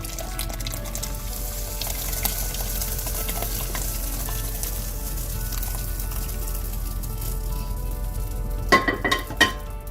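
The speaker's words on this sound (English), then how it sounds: "And now we're going to add the cooked lentils." Cooked lentils go into a simmering okra and tamarind stew, giving a steady low bubbling sizzle with soft stirring scrapes and a couple of sharp clinks of a utensil against the pot near the end.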